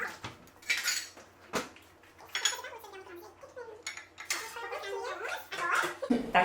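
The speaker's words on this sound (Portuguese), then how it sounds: "eu vou tirar da minha forminha e vou colocar num prato" A small sweet potato cake is lifted out of its baking mold and set onto a porcelain plate, giving several sharp clinks and scrapes of ceramic and utensils, close and fairly loud, with short pauses between the knocks.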